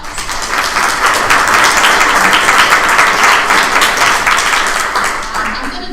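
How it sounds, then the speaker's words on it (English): An audience applauds at a symposium, a dense, sustained burst of clapping close by and loud throughout, tapering slightly at the end. "So give them all a round of applause."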